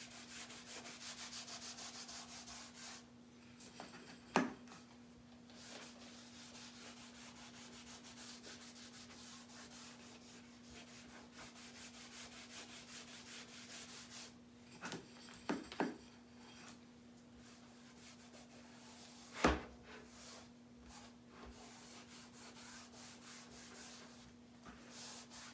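Stain or dark wax rubbed by hand onto wooden pumpkin cutouts: a soft, continuous rubbing texture, faint and distant, over a steady electrical hum with a few brief knocks scattered through.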